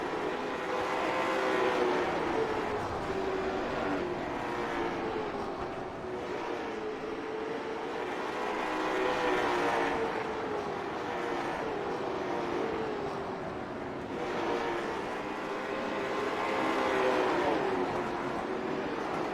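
Late model race cars lapping a track at a season opener, a steady roar of engines that swells and fades in long waves as cars pass, heard from a distance with no talk.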